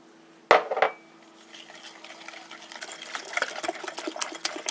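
After a sharp clink of a utensil against a bowl, a whisk beats pie filling for a caramel pecan pie in quick, steady strokes that grow busier and louder, close by with no talk.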